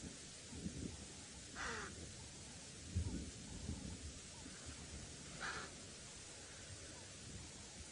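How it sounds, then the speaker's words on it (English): Low, faint rumbling of far-off thunder from an approaching storm rolls beneath a quiet outdoor hiss on a sunset safari drive, with a couple of brief bird calls breaking through. "can you hear the thunder now?"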